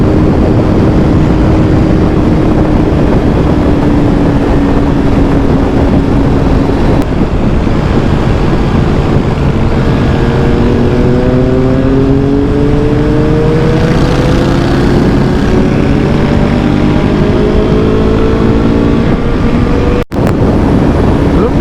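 A superbike ridden at full throttle at about 150 km/h, its loud steady engine drone rising and shifting in pitch beneath heavy, continuous wind roar.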